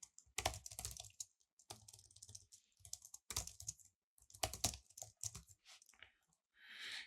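Quick bursts of typing on a computer keyboard as Python code is entered into Houdini, clattering keystrokes in irregular clusters separated by short pauses, close and fairly loud with no talking.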